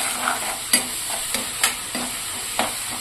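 Onions frying with salt hiss steadily while a spoon stirs through them, its scrapes and taps against the pan landing every half second or so. Nobody speaks.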